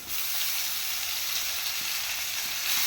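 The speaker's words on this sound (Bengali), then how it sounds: "শাক কড়াইতে দেবো নাড়বো" Steady, loud sizzling of greens frying in a hot wok, a continuous crackling hiss with faint scraping from stirring throughout.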